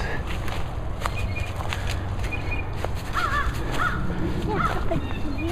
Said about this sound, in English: And birds all over the place.